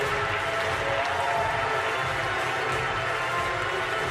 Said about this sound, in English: Extra cheer for him.